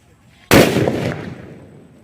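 An atom bomb firecracker set in coloured powder goes off with one sudden loud blast, close by, followed by a rushing decay that fades out over about a second and a half.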